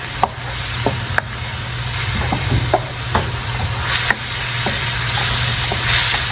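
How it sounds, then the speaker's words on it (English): Onions and jalapenos sautéing in a very hot pan, a steady, loud sizzle with sharp scattered clicks and taps of a utensil against the pan, heard close up with no speech. "I want to cook my onions down and my jalapenos, so I'm going to saute this until I do that"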